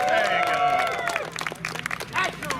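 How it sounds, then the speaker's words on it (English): A crowd claps and cheers for sword fighters at a tournament bout, brief bursts of applause mixed with voices and whistles, fairly close and lively. "Give them applause."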